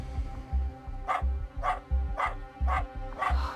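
A puppy barks in a steady run of about six sharp yips, roughly one every half second, over a low rumbling background hum at night indoors.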